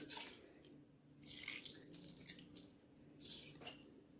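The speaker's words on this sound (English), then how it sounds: "We're going to add a little bit of water, or you can add chicken broth." Water poured into a pot of turkey wings and onions, a faint, uneven splashing and trickling in a few short bursts.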